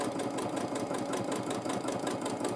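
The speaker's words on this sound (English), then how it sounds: "I will quilt now directly on the line" A sewing machine quilts a feather design along a chalk line, running in a close, continuous rapid rattle with an even rhythmic pulse throughout.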